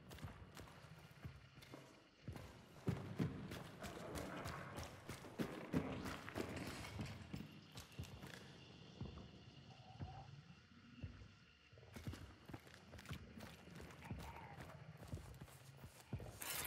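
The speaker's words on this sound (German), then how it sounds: "Ich hab wohl gerade schon wieder ein scheiß Pferd gehört, wa?" Horse galloping in the video game Hunt: Showdown, a run of rapid, irregular hoof thuds that rise and fall in loudness over a long stretch, mid-distance amid other game noise.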